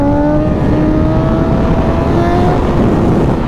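A semi truck engine roars loud and close, a steady droning rev with slowly falling pitch, held for the whole moment without speech.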